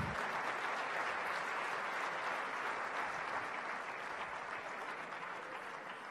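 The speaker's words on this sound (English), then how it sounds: "Round of applause to the winners of Miss Geek 2017," Steady, dense applause from a conference audience honouring award winners at Transform Africa 2017 in Kigali, Rwanda, a full, even wash of clapping that holds for several seconds and tapers slightly at the end.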